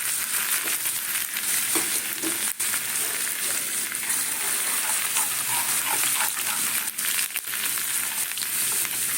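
Dalmut, a crunchy lentil snack, frying in hot oil: a dense, steady sizzling hiss runs close and loud throughout, with occasional soft crackles and brief dips, and no voices.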